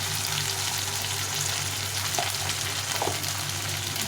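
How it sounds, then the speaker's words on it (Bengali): Ground ginger-cumin paste with salt and turmeric sizzles in hot oil, a steady close hiss with faint crackles and no voices. "এই মশলাটাকে একটু কষিয়ে নিন"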